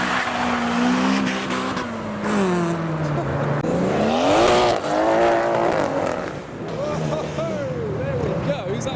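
A modified car at a city car meet pulls away loudly, its engine revving in rising and falling sweeps over several seconds amid crowd noise and voices.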